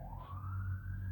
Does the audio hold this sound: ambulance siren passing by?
yes